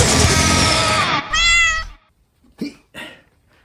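A cat meows loudly up close in a long, drawn-out wail, then gives a second shorter meow and a couple of brief soft chirps, with no talking.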